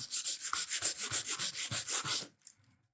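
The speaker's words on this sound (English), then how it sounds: "But you take your sandpaper, sand that primer down," Sandpaper worked by hand over primer on new wooden trim: about fifteen quick, even back-and-forth rasping strokes, close and steady, then the motion stops and leaves a few faint taps.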